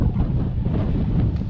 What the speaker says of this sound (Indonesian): Sorry ya kalau suaranya keganggu angin.